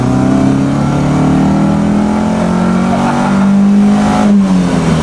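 A 1972 BMW 2002 (Malaga) engine driving and accelerating on a highway, steady loud mid-pitched engine drone with rising revs, heard from inside the car, no talk.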